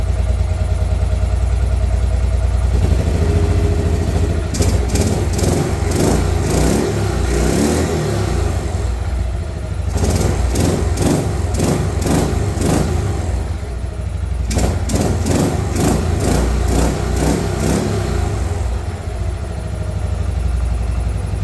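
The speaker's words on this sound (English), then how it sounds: "we got it running. Fogging a little bit. Let's let it warm up a bit" A Buell Blast motorcycle engine idles loudly and steadily up close while warming up, with a few short bursts of revving in between.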